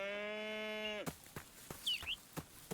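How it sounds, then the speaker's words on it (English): Cow in the video game Rising World gives one long, loud, sustained moo, followed by faint footsteps and clicking in-game sounds. "Oh, that's a cow."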